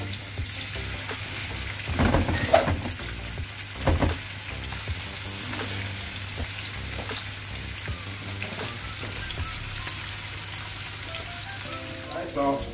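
Salmon searing in olive oil in a hot pot, a steady close crackling sizzle with a few louder spits and scrapes as pieces are moved.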